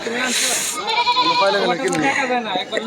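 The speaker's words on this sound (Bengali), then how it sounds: "এ পাশে আমরা আরও অনেক খাসি দেখতে পাচ্ছি আজকের হাটের অনেক সুন্দর সুন্দর খাসি উঠেছে" Goats bleat repeatedly at a busy village livestock market, their wavering cries mixing with people talking close by.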